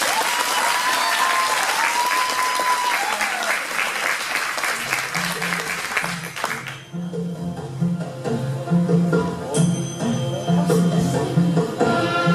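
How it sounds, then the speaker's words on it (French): Audience at a cosplay parade at a convention in Dijon breaks into loud sustained applause, then after about seven seconds pop music takes over with clapping continuing beneath it. "on peut les applaudir"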